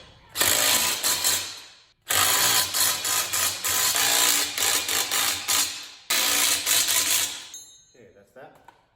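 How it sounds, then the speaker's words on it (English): A power nut driver runs in three loud, sustained bursts with a whirring, ratcheting buzz as it tightens bolts on thin-metal engine stand beams, with brief pauses between runs. "now we're going to go ahead and tighten down the bolts that are on our beams"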